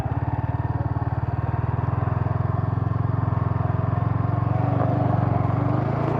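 A motorcycle on a Sunday road ride gives a loud, close, steady engine drone with a fast pulsing beat throughout, rising slightly toward the end, with no talking.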